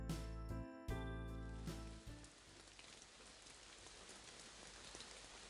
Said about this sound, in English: the sound of the rain painfully echoes in my ear